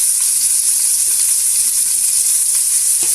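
Beef with colombo spice frying in a pan over lowered heat gives a loud, continuous bright sizzle and crackle, close up and unbroken, with a faint stirring knock near the end.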